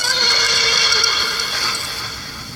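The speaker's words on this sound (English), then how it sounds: "Ginger snorted in agreement." A horse gives a loud, close nasal snort that rises into a whinny-like cry, used as a sound effect. It lasts about two and a half seconds with no other sounds around it.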